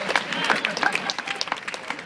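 A crowd applauds steadily with dense clapping at a live spoken word performance at a festival, moderately loud, with a voice or two mixed into the noise.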